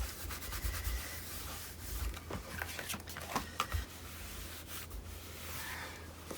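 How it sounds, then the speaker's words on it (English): A paper pop-up page is closed and burnished, producing close, steady rubbing and scuffing strokes of a tool over paper with scattered soft taps. "I will close this and give them a good burnish"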